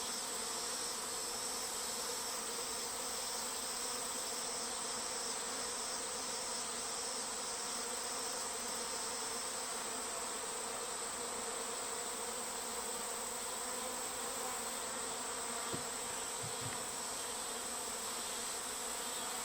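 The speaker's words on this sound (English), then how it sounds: "There are bees that are flying" Many honeybees from a newly swarmed hive buzz continuously in a steady, droning hum that holds for the whole stretch, with a few faint knocks near the end.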